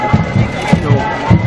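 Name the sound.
large crowd at hunger strike rally in Belfast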